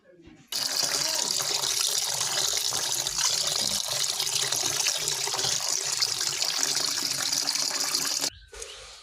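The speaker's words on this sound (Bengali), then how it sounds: "চলুন মাংসটা আগে ভালো করে ধুয়ে নিই" Mutton being washed under a running kitchen tap, a loud, steady gush of water splashing into a sink that lasts several seconds before cutting off abruptly near the end.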